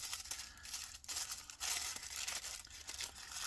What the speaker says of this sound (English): crumple it up too.